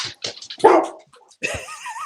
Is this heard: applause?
no